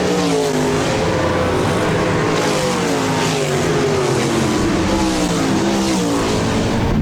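RaceSaver sprint cars race around Park Jefferson Speedway, a loud, steady engine roar with shifting pitch as cars pass and blend together, filling the whole clip without let-up.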